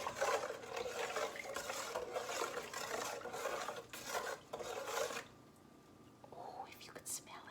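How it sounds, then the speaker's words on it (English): A pickling mixture of sugar and salt for beets gets a brisk stir in a pot, a steady scraping swish that lasts several seconds, then fades to quiet with a few faint clinks. "Give this a little stir."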